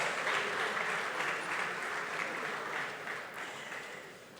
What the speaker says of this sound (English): I'd urge you to keep clapping.